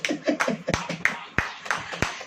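A congregation claps its hands in a string of sharp, irregular claps spaced through the moment, mixed with a voice speaking over them.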